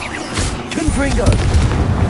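A Confringo blasting spell explodes in Hogwarts Legacy on PS4, a heavy boom with crackling debris, layered over swirling game effects and music, loud and close throughout.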